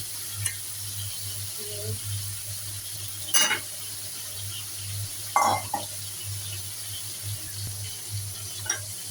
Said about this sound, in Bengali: একবার আমি সবগুলো ভেজে নেব।